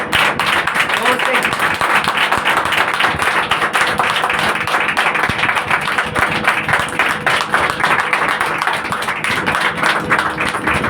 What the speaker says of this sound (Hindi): जोर से ताली बजाकर।